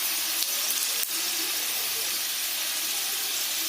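Panch phoron and bay leaf splutter in hot oil, a steady dense hiss of sizzling close by with one brief knock, moderately quiet and continuous throughout.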